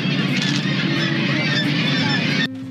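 A large colony of seabirds on Gull Island off El Salvador calls in a dense, continuous honking chorus, close and loud, without talk, before cutting off abruptly near the end.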